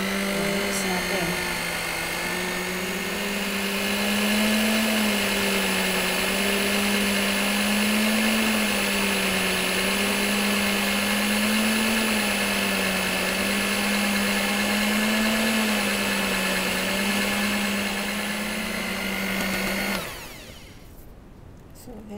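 An electric mixer whirs steadily through fruit pound cake batter, a loud, continuous motor drone with a slightly wavering pitch as the beaters move, running for about twenty seconds before abruptly switching off.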